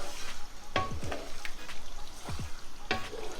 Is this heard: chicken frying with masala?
yes